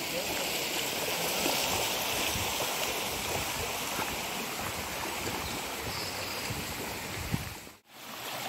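A forest stream with waterfalls rushes steadily and fairly close, a dense unbroken wash of splashing water that barely dips for a moment near the end.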